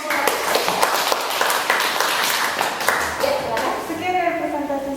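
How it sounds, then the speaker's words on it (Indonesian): Clapping from a classroom audience after a teaching presentation, a loud uneven burst of hands for the first few seconds before voices take over and talk continues near the end. "Beri tepuk tangan."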